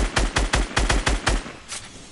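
Rapid video-game gunfire aimed at a wall, in loud, close bursts that repeat about every quarter second, then thin out toward the end.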